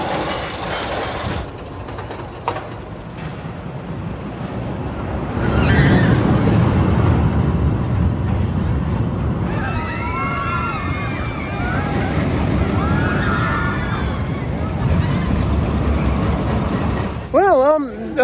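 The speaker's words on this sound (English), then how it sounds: "It's an old aerodynamics looping coaster" An old looping roller coaster at Kings Dominion, heard from on board as a steady rumble of rattling wheels and wind that swells louder partway through, with riders' voices and screams over it.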